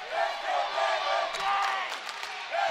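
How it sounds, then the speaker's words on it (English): A crowd cheers and yells at a heavyweight 285-pound high school wrestling dual championship match in South Carolina. Loud, sustained whoops and shouts come in waves, with mixed voices through the crowd noise. "Crowd really getting into it here."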